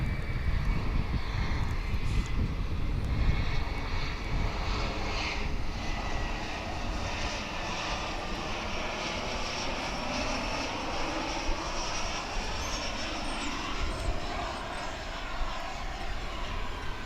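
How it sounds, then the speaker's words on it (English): An American Eagle Embraer 175 regional jet arrives at DFW International Airport, its engines a broad, steady roar that stays loud throughout and slowly shifts in pitch as the plane passes. "Here comes American Eagle Flight 3327 from Harlingen. It's an Embraer 175."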